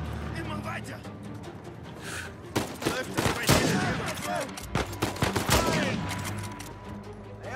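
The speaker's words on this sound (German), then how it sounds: "Kalle knallt gleich mal direkt hier" Gunfire in the video game Uncharted 4, with bursts of rapid shots and fusillades rising mid-clip over a steady game soundscape and background speech.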